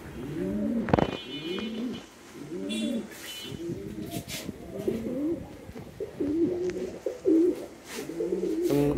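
Large pigeons in a small hobby loft coo repeatedly at close range, a steady run of rhythmic throaty calls with a sharp knock near the start.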